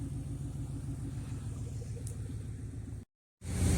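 A car engine idles steadily while warming up, a close, even low rumble with a regular pulsing throb, cut off abruptly near the end before resuming louder.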